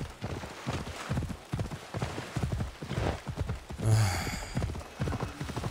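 A horse's hooves clip-clop in Assassin's Creed Odyssey, a steady rhythmic run of close, loud hoofbeats with a brief whinny near the middle.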